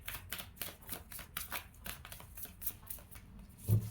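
Tarot cards being shuffled by hand, a quick run of soft papery riffles and flicks in an irregular rhythm, close and faint, with one louder tap at the end.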